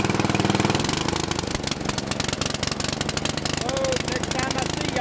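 An old abandoned Bolens riding mower engine in need of a new carburetor, running steadily close up with a loud, rough, rapid chugging beat throughout.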